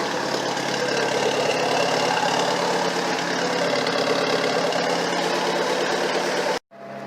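A car engine runs steadily and loudly through second and third gear on a first drive, a dense continuous drone that cuts off abruptly near the end and then resumes.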